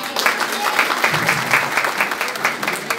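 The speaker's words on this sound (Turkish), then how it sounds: "Vallahi bu kadar alkışa imza atılmaz." Guests at Ömer and Kübra's wedding ceremony applaud, a steady wash of many hands clapping in a pulsing rhythm, fairly loud and close, with faint voices mixed in.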